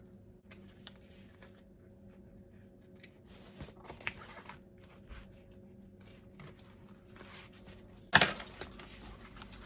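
Scissors snip at fabric in a few sparse, quiet cuts while trimming excess from the back of a sewn bag panel, with a louder handling rustle near the end; no talking.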